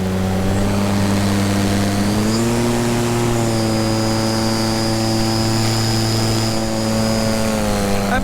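An electric paramotor motor runs at cruise throttle in flight, giving a loud, steady, close propeller drone with a constant whining hum that barely changes throughout.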